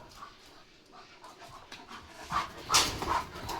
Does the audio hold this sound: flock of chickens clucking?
no